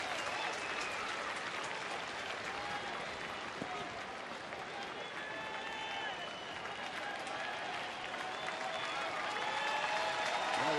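A baseball crowd at a Texas Rangers home game against the Astros applauds and cheers in a broad, sustained roar, with a broadcaster's voice running faintly underneath.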